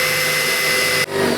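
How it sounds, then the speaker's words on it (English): A power drill whines steadily as it bores a hole in the door of a 1999 Chevy Suburban, a close, loud, continuous buzz that briefly cuts out and then restarts. "So let's just drill that hole."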